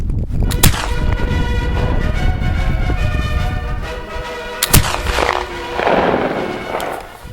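An 1800 Pattern Baker rifle fires black powder rounds at a 300-yard range, two sharp, loud shots spaced a few seconds apart, with someone speaking over the background between them.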